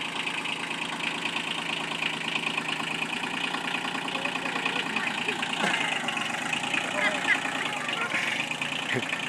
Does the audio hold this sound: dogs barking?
no